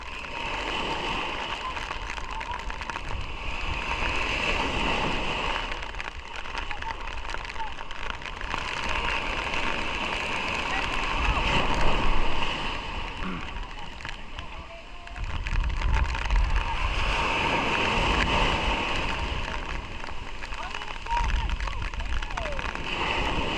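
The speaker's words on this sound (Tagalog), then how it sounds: "sobrang lakas ng alon" Strong sea waves churn around a small fishing boat hauling a net in rough weather, a steady loud wash of water and wind surging in swells throughout, with voices talking over it.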